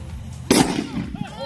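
A homemade high-powered firework bursts with a single sharp bang followed by a brief rumbling decay, heard over steady background noise.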